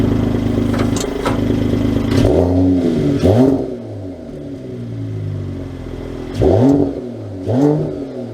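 A 2023 Mercedes E53 AMG engine idles, then revs in several short rising blips as the car is driven back to its parking space, close and loud with no talk.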